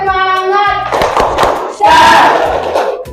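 A standing classroom group claps a rhythmic spirit clap, sharp hand strikes in a patterned beat, loud and close, with shouted voices and a burst of group cheering midway.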